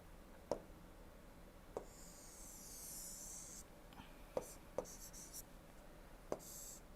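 Pen or marker strokes on paper or a board while a power plant schematic is drawn: soft scratchy writing with several sharp taps at irregular intervals, quiet and close, with no talk.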